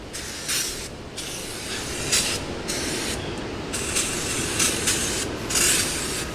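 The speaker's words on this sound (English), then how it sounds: "that's some brake cleaner right here. Let's get some brake. Let's clean the whole pan off." Brake cleaner sprayed from an aerosol can onto a car's oil pan in short and longer hissing bursts, close and steady over a low background rumble, with no talking.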